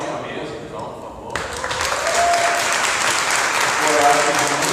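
Audience applause for a panel at an academic arts meeting, starting quietly under a speaking voice, then swelling into steady, fairly loud clapping that carries on to the end.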